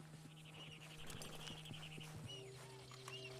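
Horse hooves clip-clop at a steady walking pace in the open world of Red Dead Redemption II, with a low ambient hum, a few sharp knocks and a faint whistling tone mixed in.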